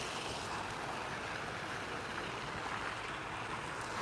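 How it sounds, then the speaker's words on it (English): Waves washing steadily at a waterside spot, a continuous broadband rush mixed with wind, moderately loud and unbroken, with no talk. "You hear that? You hear the water?"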